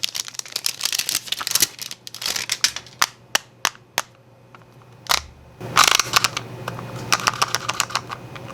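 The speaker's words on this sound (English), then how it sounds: "we're literally now taking off that plastic, guys" Plastic wrap being peeled and crinkled off a harvested cannabis bud, close up, with sharp snaps and crackles, a few isolated pops in the middle and denser rustling toward the end.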